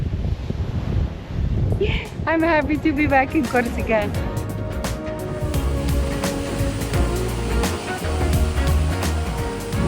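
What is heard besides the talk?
rough ocean waves and wind at a beach in Corsica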